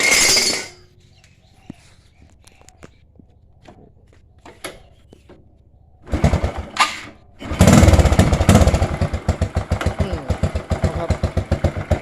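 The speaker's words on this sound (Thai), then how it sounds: "เดี๋ยวมาลองติดเครื่องดูนะครับ" A Honda Wave 125 motorcycle with its stock exhaust is started after reassembly: quiet clicks and brief cranking, then the engine catches, revs loudly and settles into a steady, close, rough-running idle.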